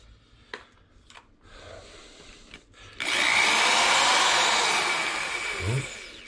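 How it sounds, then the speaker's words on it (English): A few soft clicks and taps, then a power drill spins up loudly and runs steadily for several seconds before winding down. "get my last 2 holes drilled"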